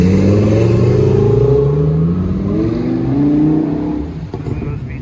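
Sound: Lamborghini V10 and Corvette Z06 cars driving away

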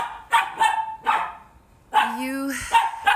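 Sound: dogs barking while playing

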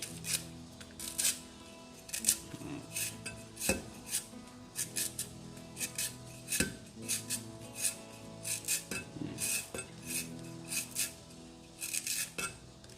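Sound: pounding chili, lemongrass and garlic in a mortar

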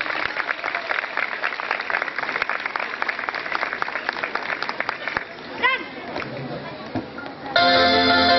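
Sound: applause

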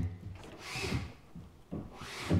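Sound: plasterer working nearby, scraping and rubbing

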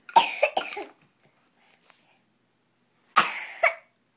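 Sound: baby coughing

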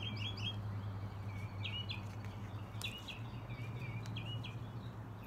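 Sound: birds singing in the background outdoors

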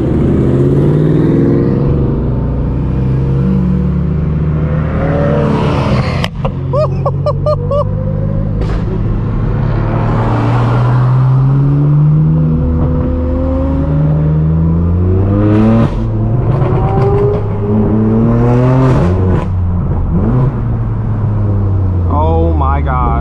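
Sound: straight-piped BMW M4 F82 exhaust revving

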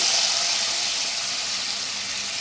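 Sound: quartered onions being lightly fried

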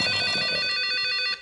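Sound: phone ringing with incoming call

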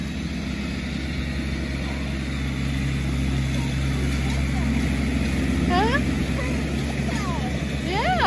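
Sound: tractor engine running

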